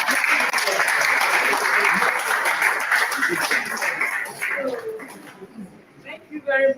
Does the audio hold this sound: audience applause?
yes